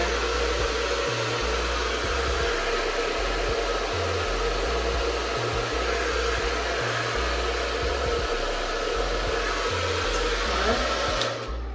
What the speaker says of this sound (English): You can use a diffuser and then add the attachment onto your blow dryer